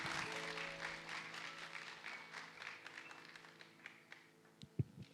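A church congregation applauding before a sermon, a sustained wash of clapping that thins out and fades, with a few louder scattered claps near the end.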